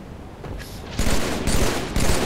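Rapid automatic gunfire in a Halo video game, with bursts of dense crackling shots starting quietly and then hitting loud at three points close together, over a constant noisy background.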